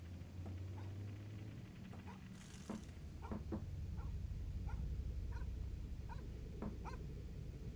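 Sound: dog barking and whimpering in the video game Fears to Fathom

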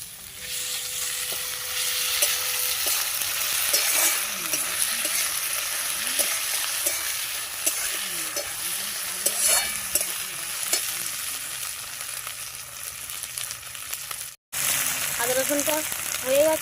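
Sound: stirring ginger garlic paste into frying onions

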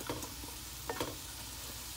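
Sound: frying chow mein ingredients in a pan

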